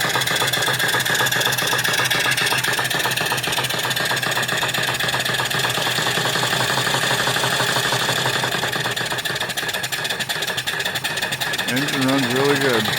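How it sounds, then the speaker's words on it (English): A small steam engine on an off-grid boiler runs steadily with a fast, even mechanical chatter of valves and pistons, close and continuous, with a brief whistle-like tone near the end. "Engine runs really good."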